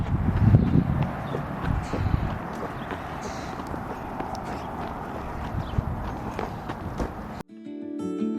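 Horse hooves clip-clopping steadily during a ride, close and rhythmic over outdoor wind noise, with a short burst of other sound at the very end.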